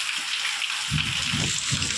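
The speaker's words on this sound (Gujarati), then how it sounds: "ફૂલ વરસાદ આવી ગયો" Heavy monsoon rain pours in a dense, constant roar, with low rumbling thumps of thunder rising beneath it partway through.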